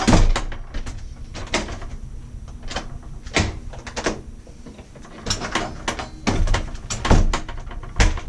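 An old house's outer door scrapes and bangs repeatedly, a string of sharp knocks and rattles at an uneven pace, loud and close throughout, with no talking.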